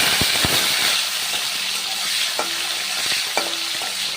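Chopped tomatoes hitting hot oil left from frying potatoes, with whole cumin seeds, for a vegetarian stalk curry: a close, continuous sizzle broken by sharp clicks and scrapes of a spoon stirring the pan, no voices.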